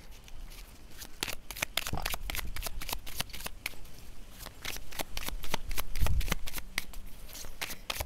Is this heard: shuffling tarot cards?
yes